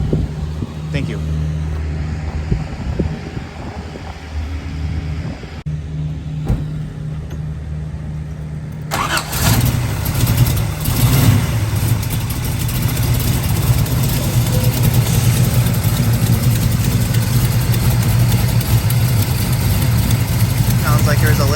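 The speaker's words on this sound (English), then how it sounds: "we're going to fire it up and then drive it" A 1968 Chevrolet Camaro convertible with a four-speed fires up partway through, then settles into a loud, steady idle with a slight exhaust leak at the driver's-side header. Quieter rumbling comes before the start.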